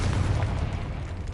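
A Confringo explosion spell going off in Hogwarts Legacy, a deep rumbling boom with a dense low-end roar that holds steady through the short moment and fades slightly at the end.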